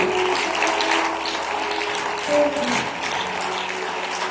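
A church congregation applauds with a fairly soft, continuous wash of clapping. A sustained organ-like tone sits under it, and a brief swell comes through midway.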